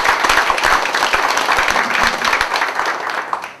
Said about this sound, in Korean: 좋은 토론을 내라고 박수 한번 쳐주시기 바랍니다